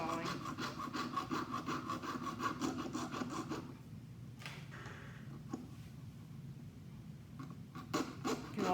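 A fine-toothed saw rasps back and forth in steady quick strokes through a wire coil on a dowel, cutting jump rings, then pauses into near quiet with a few scrapes and taps.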